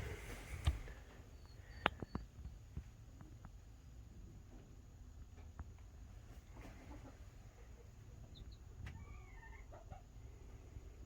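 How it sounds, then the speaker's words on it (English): Baby chickens in a brooder tub, soft clucks and a few high peeps scattered through a quiet room, with occasional sharp knocks and rustles. "this here is the brooder room that I was talking about making for the baby chickens"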